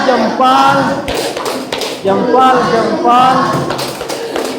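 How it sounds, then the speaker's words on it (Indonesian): Classroom applause for a group's concept-map project: several bursts of clapping from students, with a teacher's voice speaking over and between the claps. "Berikan aplaus. Tepuk salut."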